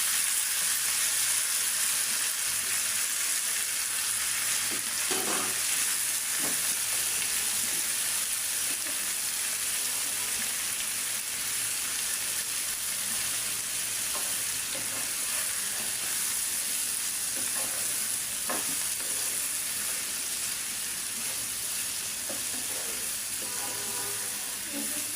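Malabar spinach frying with garlic and onion, a loud, dense and steady hiss of frying throughout, with occasional stirring scrapes and brief faint clicks.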